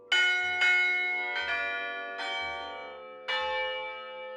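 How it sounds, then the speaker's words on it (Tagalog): An antique set of tuned church bells in Iloilo strikes five separate times. Each strike is clear, ringing and close, and it decays slowly into the next with overlapping tones. No voices. "Ang bells na ito, hindi katulad ng ordinaryong kampana na iisang tunog lang ang nagagawa dahil set o binubuo ito ng maraming kampana."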